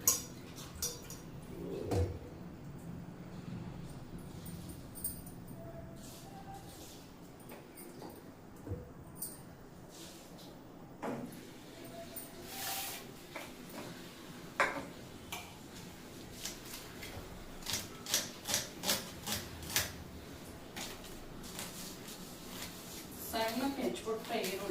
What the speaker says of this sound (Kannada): ಸಣ್ಣಕ್ಕೆ ಹೆಚ್ಚಿಬಿಟ್ರೆ ಈರುಳ್ಳಿ